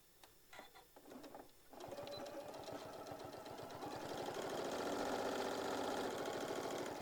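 Close, steady sewing machine stitching runs along the center seam of a tote bag, starting faintly and building to a loud, even mechanical whir with a rapid needle rhythm.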